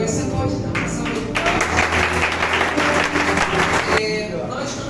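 A church congregation breaks into applause that swells for a few seconds in the middle, set against a voice and a sustained musical tone.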